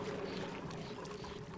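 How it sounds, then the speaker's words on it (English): Polluted water pumped through a pipe in the Oxygen Not Included video game: a steady, soft rushing wash of flowing liquid, continuous and faint throughout. "so we'll just pump this polluted water in here"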